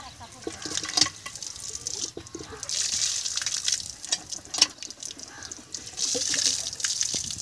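Water gushes and splashes in surges from a hand-pumped tube well in a remote Sunamganj village, the flow rising and falling with each stroke while people talk nearby.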